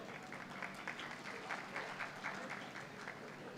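Audience applause at an international conference on world religions in Lahore, heard as a faint, steady patter of many hands clapping at a distance, continuous for a few seconds.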